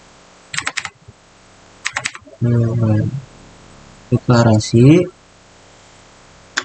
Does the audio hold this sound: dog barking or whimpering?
no